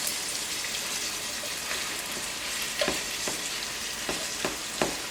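A pound of ground beef frying over medium heat with onions, a steady close sizzle with occasional scraping strokes as it is stirred, no voices.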